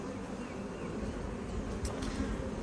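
Honeybees buzzing steadily in beehive boxes ahead of a possible swarm, a dense, continuous low hum that holds near and even throughout with no talking.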